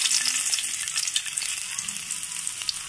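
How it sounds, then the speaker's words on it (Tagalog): Garlic fries in a pan with a dense, bright, continuous sizzle, close and fairly loud, with faint stirring ticks beneath it and no speech. "ilalagay na po natin ang bawang"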